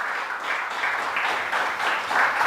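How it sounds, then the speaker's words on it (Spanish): A church congregation claps together in a steady wash of applause, moderately loud and continuous throughout. "Dar un fuerte aplauso al Señor."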